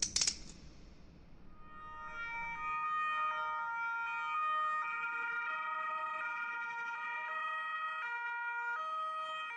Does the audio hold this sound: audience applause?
no